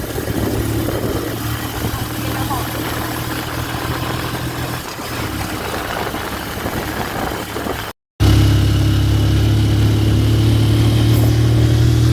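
A motorcycle engine runs steadily close by, a constant mid-pitched hum that drops out for a moment, then returns louder with a strong low drone.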